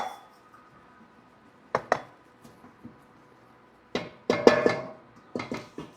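Weighed ingredients for sugar bread rolls go into a stand mixer bowl: a few sparse clinks and knocks, then a louder cluster of close thuds and scraping clatter near the end, with no talking.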